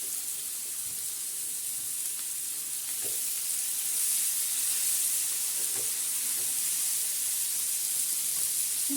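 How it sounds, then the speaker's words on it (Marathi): Chopped vegetables sizzle steadily in hot oil with browned onion on a griddle, a constant close frying hiss with a few faint stirring clicks and no talking. "सर्व भाज्या तव्यावर."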